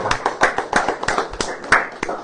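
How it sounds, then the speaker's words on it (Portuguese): A church congregation at a service in a therapeutic community claps in a quick, uneven rhythm of sharp close claps, with voices speaking over it. "Uma salva de palmas."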